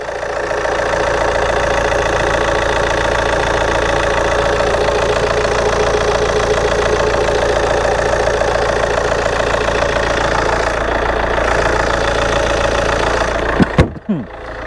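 A Vauxhall Vectra estate's engine idling steadily, loud and close, a constant low rumble for the whole stretch, ending with a few knocks and bumps.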